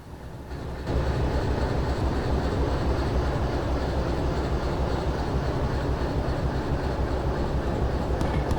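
Four locomotives in the Derail Valley train game pull away under throttle at an iron ore mine, a loud steady rumbling roar with rail clatter that rises at once and holds without a break.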